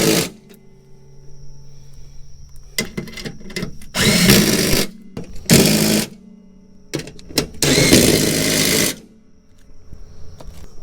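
Impact wrench tightening nuts: repeated loud bursts of rapid hammering, each lasting about a second, separated by pauses and a quieter background hum.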